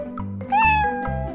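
A domestic cat meows in a short series of close, clear calls, the middle one louder and more drawn out, with no talking.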